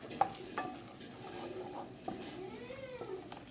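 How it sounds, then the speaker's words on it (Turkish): Chicken sautéing in butter and oil in a pan, a soft low sizzle with occasional scraping stir strokes, fairly quiet and close. "bir güzelce kavuruyoruz"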